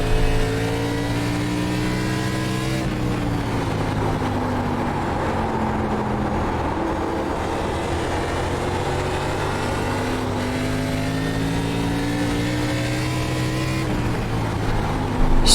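ARCA Menards Chevy Impala race car engine in a racing video game, a loud continuous high-revving drone whose pitch climbs and drops through gear changes, with no break across the whole stretch.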